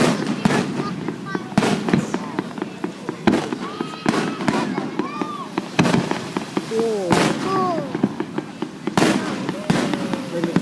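Fourth of July fireworks burst over Hilo Bay in repeated sharp cracks and booms at irregular intervals, with people chatting and a crowd murmuring nearby.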